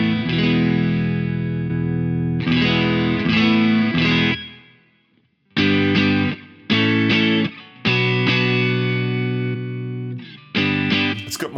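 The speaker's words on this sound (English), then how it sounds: "So this is the clean sound." A clean electric guitar tone played through an amp rings out in sustained strummed chords, several separate bursts with short pauses between them, no talking.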